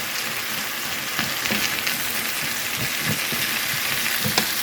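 Onion frying in a pan, a steady broadband sizzle with occasional louder crackles and pops, close and continuous without any talking.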